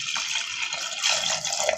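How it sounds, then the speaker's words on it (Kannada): Water is poured from close by onto tomatoes in a pressure cooker, a steady splashing rush that lasts the whole moment without any voices. "ನೀರು ಹಾಕೋತೇನೆ ಇದಕ್ಕೆ."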